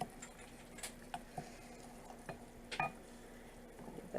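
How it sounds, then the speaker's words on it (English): A spoon stirs flour-thickened homemade pizza sauce in a pot, giving faint scattered clicks and scrapes against the metal over a quiet, low background hum, with no voices. "Give that a stir."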